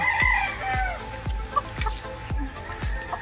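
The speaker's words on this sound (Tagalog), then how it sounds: "Ang dami ng manok ni Bea." Chickens cluck repeatedly nearby, a steady series of short, low clucks about every half second.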